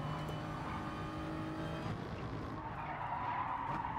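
Tyres squealing and skidding with no grip on a race car in Gran Turismo Sport, a continuous harsh screech over engine noise that eases off after about two seconds.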